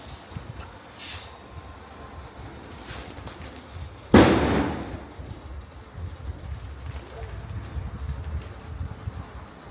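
A single firecracker bursts with a sharp loud bang at a festival night, followed by a fading rumble, amid faint background noise and distant pops.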